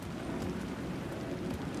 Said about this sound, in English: Why make him stand in the rain?